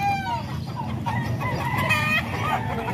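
A young Boston-bloodline stag crows loudly and close by in one full drawn-out call, with other fowl faintly clucking behind it.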